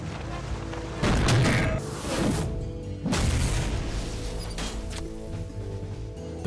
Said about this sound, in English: We unmount and the tank fires away